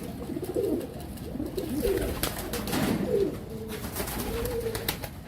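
Several pigeons coo in soft, rolling repeated calls nearby, overlapping one another against a faint background rustle.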